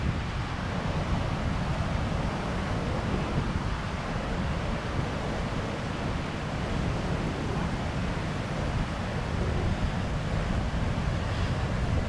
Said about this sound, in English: And you just listen to the sound of the pounding surf and smell the fresh sea breeze.